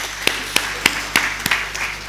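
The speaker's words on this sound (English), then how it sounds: "a big round of applause to all of you" A full hall of audience members claps in slow, evenly spaced beats, five sharp claps in about two seconds, with no one speaking over them.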